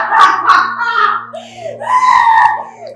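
A person screams in a dramatic indoor scene, long loud shrieking cries in two bursts, close and raw, with faint sobbing tones.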